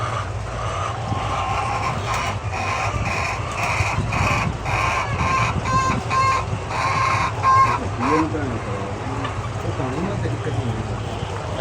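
Hens on an egg farm cluck and squawk in a busy, overlapping chorus with a possible rooster crow mixed in, close and fairly loud, while people talk nearby over the flock.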